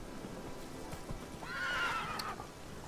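Horse neighing in The Witcher 3 video game, a single clear whinny rising midway over soft hooves and a faint rain-like background.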